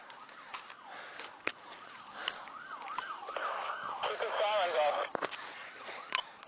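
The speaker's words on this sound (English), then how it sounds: "Guys, you gotta shut your sirens off." Police car sirens wail in a continuous rising and falling pattern at a moderate distance during a tense incident with Florida deputies, while several people talk and shout over them.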